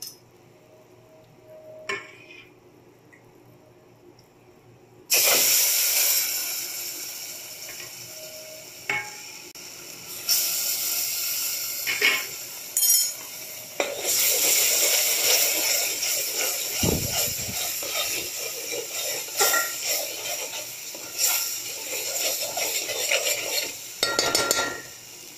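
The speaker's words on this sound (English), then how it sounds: "Now I'll be adding my tomato puree." Tomato puree poured into flour cooking in a pot for homemade tomato soup, setting off a loud, steady sizzle with stirring and occasional utensil clinks after a quieter start.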